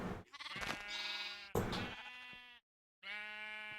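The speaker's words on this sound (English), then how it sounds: "There's the colored sheep or colored wool I was looking for." Sheep in Minecraft's Agrarian Skies modpack bleat in a string of three or four clear, tonal game calls, each lasting about a second, with one short silent gap between them.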